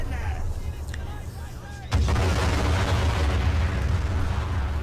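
Artillery fire in the World War I game Men of War around the Somme: a heavy boom breaks in after a quieter start, then a dense roar of distant shelling and bursts continues.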